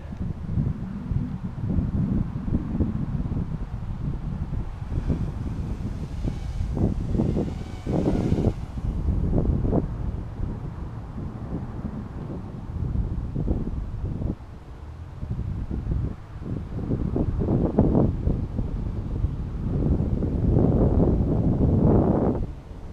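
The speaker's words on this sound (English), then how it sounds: "Oh, crazy wind." Strong outdoor wind buffets the microphone in loud, continuous rumbling gusts for the whole stretch, with no talk over it.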